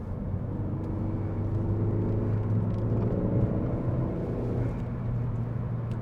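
Cabin of a 2014 Ford Focus ST on the road through bends, a steady low engine and road rumble with a faint rising drone that eases off toward the end, no talking.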